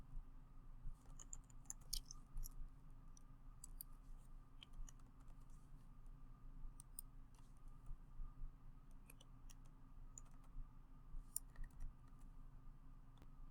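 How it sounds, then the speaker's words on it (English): Someone typing on a computer keyboard, a steady stream of soft, close key taps and clicks in irregular bursts over a low background hum, no voices. "type in a name"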